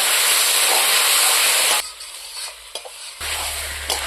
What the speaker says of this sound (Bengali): দেখুন মশলার সাথে জালি কুমড়োটা কত সুন্দর কষানো হয়ে গেছে